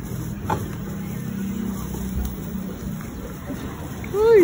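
An electric bike motor strains under a heavy load of about 150 kg, giving a steady low hum that swells into a rising whine near the end, with some background noise.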